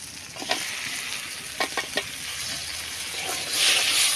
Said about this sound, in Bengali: মশলা কষানো হয়ে গেছে এবার কবুতরের গোস্ত দিয়ে দেবো